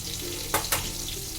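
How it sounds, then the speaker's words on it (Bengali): Potatoes frying in a pan for an egg curry, a steady soft sizzle with two brief louder bursts of crackle near the middle, close and alone without talk. "মাঝে মধ্যে আমি ঢাকাটা খুলে আলুটাকে এভাবে ভেজে নিয়েছি"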